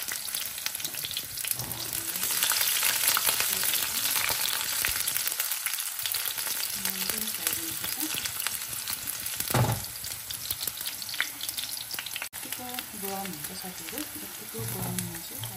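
Garlic hitting hot olive oil in a pan sizzles and fries steadily, a dense continuous crackle with a few brief bursts and stirs near the end, close and fairly loud, no talking.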